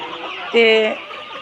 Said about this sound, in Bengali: দেখেন যে ওরা খাবার খাওয়ার জন্য একটু চিল্লাচিল্লি করতেছে।